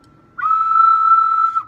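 A single steady ocarina note, sustained for over a second alone and close by, with a pure whistle-like tone and a slight swell just before it stops.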